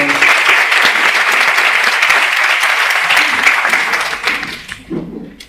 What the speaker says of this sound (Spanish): Os voy a pedir un fuerte aplauso para que empiece bien animado.